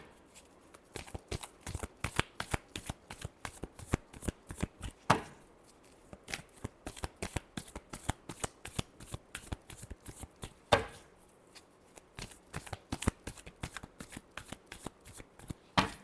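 Tarot cards are shuffled in rapid bursts of crisp riffling and slapping, with the sequences separated by brief pauses. The shuffling is close and sounds on its own.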